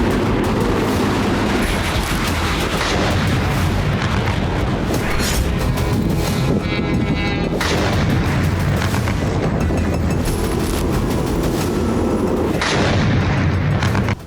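Heavy shelling from a Russian T-90 tank near Robotyne in the war in Ukraine, loud and sustained, with repeated deep booms and artillery-like blasts rolling over a constant rumble for the whole stretch.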